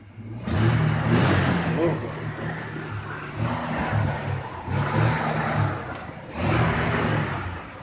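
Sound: car engine revving, 3.7 litre

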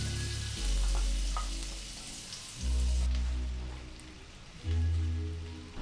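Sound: butter melting and sizzling in a hot pan

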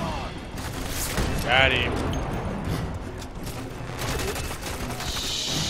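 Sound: gunfire in video game FEAR 3

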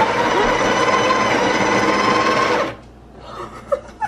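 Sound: Breville Barista coffee grinder grinding beans

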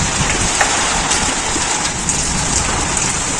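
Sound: thunder rumbling during rainstorm

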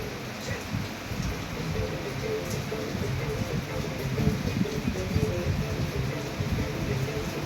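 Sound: rain falling

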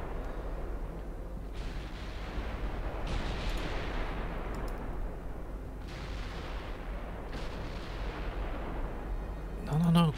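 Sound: naval ship gunfire in Ultimate Admiral Dreadnoughts video game

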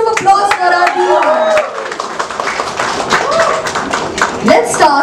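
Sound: audience round of applause

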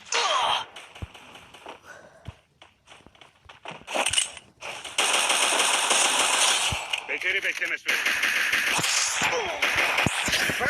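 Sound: gunfire in Free Fire video game

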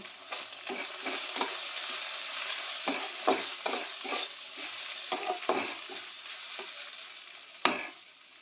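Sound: frying potatoes and chopped tomato for jhal suji

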